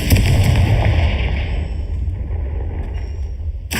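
A Confringo blasting spell goes off in Hogwarts Legacy, a loud, sustained explosive burst with a rumbling low end that slowly decays over several seconds, followed by a sharp new blast at the very end.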